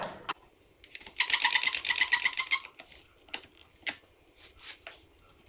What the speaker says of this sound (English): this is an area where I might go ahead and just clamp it again